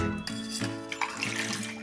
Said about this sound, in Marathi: हे बुडतील इतपत पाणी घालून